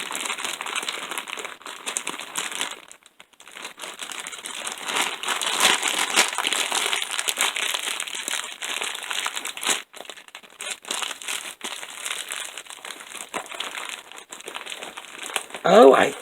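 A small plastic baggie is squeezed and pressed to force the air out, giving close, continuous crinkling and rustling with brief pauses and a louder crunch at the end.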